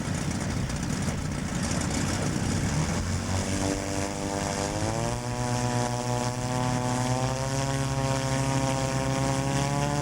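Propeller-driven model aircraft at a Scottish model airshow, a large 54.4 kg scale build; steady engine drone rises in pitch as it passes, loud and sustained with no talk.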